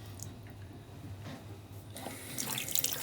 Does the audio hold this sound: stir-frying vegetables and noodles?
no